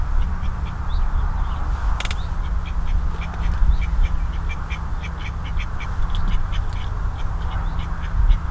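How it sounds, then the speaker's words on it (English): Many ducks quack repeatedly near a carp fishing spot on a lake, a busy run of short calls at mixed distances over constant outdoor rumble and wind. "Got a lot of ducks around me here."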